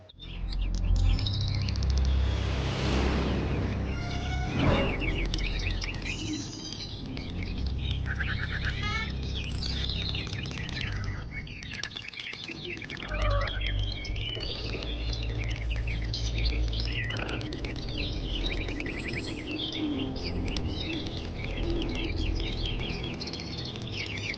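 Many birds chirp and call together in a dense, continuous chorus at a house in Pammal where thousands of birds are fed daily, with bursts of louder tweeting over steady background noise.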